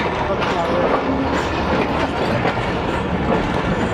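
Awam Express passenger train running on the rails out of Lahore Junction toward Peshawar, a loud steady rumble with rhythmic wheel clatter from inside the carriage, and a voice talking faintly beneath it.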